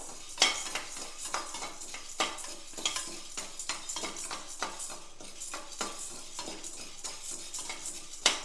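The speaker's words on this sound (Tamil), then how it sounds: "லைட்டாக வறுபடட்டும்." Chana dal dry-roasting over medium flame in a pan for chutney, with a spatula scraping and stirring in irregular strokes over a soft, continuous sizzle; no voices.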